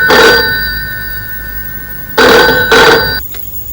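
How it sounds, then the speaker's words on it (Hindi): An old-style telephone bell rings in bursts, one ring near the start and then two quick rings later, loud and close with a hum between them, in a dramatised scene. "लेकिन अब तो उदय के घर फोन करके उसके पिता से दोनों की शादी की बात पक्की कर लो।"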